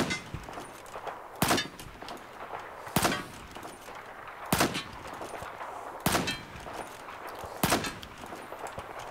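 Rifle shots in Battlefield 4 ring out six times at a steady interval of about a second and a half, each one a sharp, loud crack over a faint background hum of the game.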